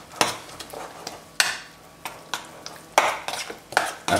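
Spoon stirring a thick croquette mixture in a pan, a series of scraping and knocking strokes at an irregular pace with sharp clanks against the pan, close and clear, no talking.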